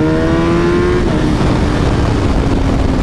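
A Kawasaki ZX-10R sport motorcycle engine revs hard as the throttle is rolled on, a loud, close, continuous high-pitched whine whose tone climbs and shifts, with no pause from start to finish.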